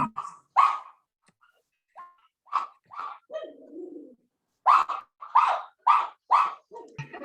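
A pug barks in a run of short, sharp yaps with a few lower grumbling noises between them, close and loud against an otherwise quiet background.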